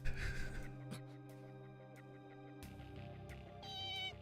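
A cat meows in the mecha action video game Megaton Musashi W Wired, a short, fairly faint cry near the end over steady game music and effects.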